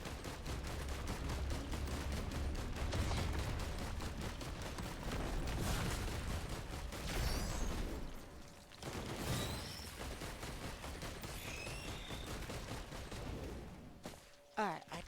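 Commando's phase round firing in the Risk of Rain 2 video game: dense, continuous bursts of game gunfire and booming impacts, loud and close, with brief higher whooshes near the end.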